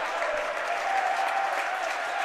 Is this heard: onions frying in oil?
no